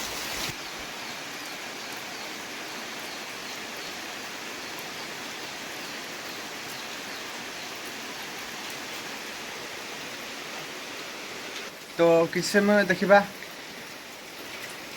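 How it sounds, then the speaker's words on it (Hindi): Heavy rain falls in a village, a steady, moderately loud wash of noise that runs throughout, with someone briefly speaking near the end. "केते जोर से वर्षा आसुछि।"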